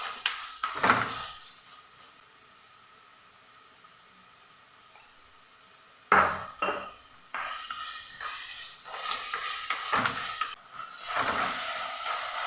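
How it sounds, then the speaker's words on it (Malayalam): Watermelon rind being stirred with salt in a pan makes intermittent scraping and clattering bursts over a steady hiss, with a quiet stretch in the middle. "ഇതാ നമ്മൾ ഉപ്പൊക്കെ ഇട്ടിട്ട് നല്ലപോലെ ഒന്ന് മിക്സാക്കി എടുത്തിട്ടുണ്ട്"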